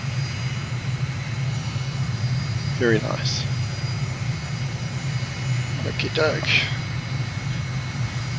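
Steady airplane engine drone from Microsoft Flight Simulator during low flight over rural Kazakhstan near Nur-Sultan, a constant hum running throughout while someone briefly speaks twice over it.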